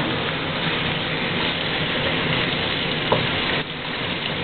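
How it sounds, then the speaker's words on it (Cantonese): Beef steak pan-fries at a family day cookout, a dense, even sizzle filling the few seconds at close range with one small clatter near the end and no speech. "哇，好靚喎啲牛扒！ 冇錯，一陣間煎完仲靚。"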